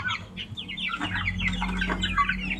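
Many free-range village chickens cluck and chirp busily at close range while eating mixed feed, overlapping short calls over a low background hum.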